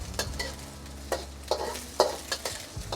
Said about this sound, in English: So I'm gonna hurry up and scramble the eggs.